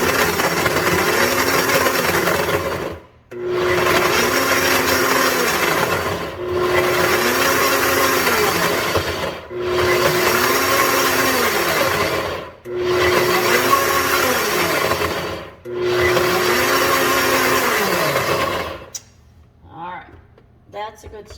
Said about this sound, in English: keep pulsing this so the cheese will kind of grind up